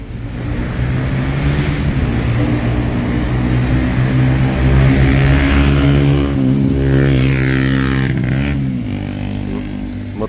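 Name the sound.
car engine revving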